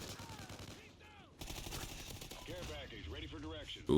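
Honey Badger gunfire in Call of Duty, a quiet rapid clatter of shots running under someone talking, growing a little louder partway through before a sharp burst at the end.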